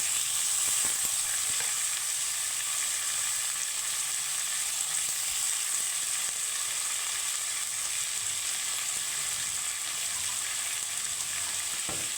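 Grated watermelon rind added to lightly fried potatoes in hot oil gives a steady, even frying hiss that carries on unbroken for the whole stretch, close by with no talking.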